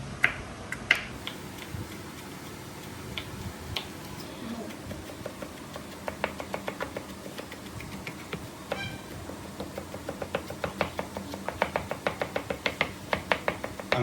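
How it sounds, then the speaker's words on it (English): Garlic being chopped with a knife on a board, a run of quick, crisp taps that starts sparse and builds into a steady, fairly close rhythm over low background noise. "So next thing is to chop garlic"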